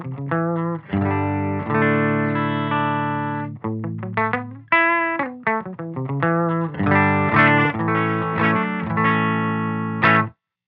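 Scythe Guitars OH19 electric guitar run through a Silktone Amps Silktone Fuzz pedal and Silktone amp, thick fuzzy chords and short riff stabs alternating with sustained notes and pauses, loud and close with no voices.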